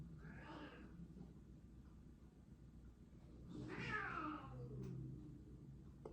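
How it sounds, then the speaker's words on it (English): A cat meows twice, a short cry at the start and a longer, drawn-out one a few seconds later, both faint against a quiet background. "well, there's a cat. Meow."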